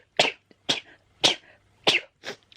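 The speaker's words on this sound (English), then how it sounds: "I'm gonna sneeze." Five sharp sneezes in quick succession, each a short explosive burst with brief pauses between, close to the listener.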